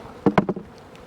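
Honeybees from a hive holding roughly 100,000 bees give a few short, close buzzing bursts in quick succession, then fade to a low background hum.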